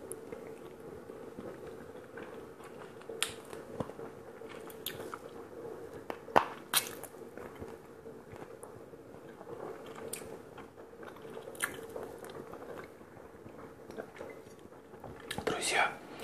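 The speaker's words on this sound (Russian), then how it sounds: "Обожаю куриные лапки с соевым соусом." Close, quiet mouth sounds of someone eating chicken feet with soy sauce: soft biting, squishing and chewing that continue steadily, with small crunchy clicks scattered throughout.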